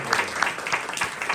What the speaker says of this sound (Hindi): क्या आप ताली दे सकते हैं?